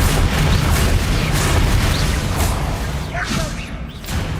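Bombarda spell blast in Hogwarts Legacy, a dense booming explosion layered over continuous loud game effects and music, with a whooshing burst near the end.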